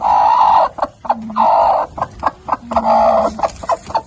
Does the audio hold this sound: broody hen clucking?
yes